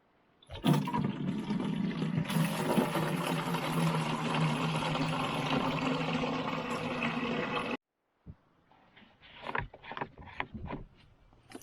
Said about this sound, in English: we're going to go ahead and use this water now to put in here